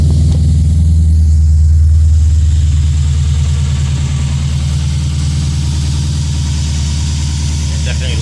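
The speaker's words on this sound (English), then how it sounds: "Cold start, guys. Cold start too." A Lexus IS F with a new RR Racing air filter idles just after a cold start, its engine a steady deep rumble that settles slightly lower after the first couple of seconds, continuous and close.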